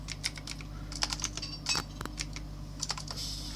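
Rapid typing on a computer keyboard while writing Excel VBA code, a steady stream of light clicky keystrokes with occasional harder taps, close and alone over faint room hum.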